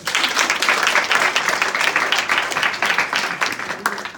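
An audience applauding a named translator at a speech event, dense close clapping that is loud and sustained for the whole stretch.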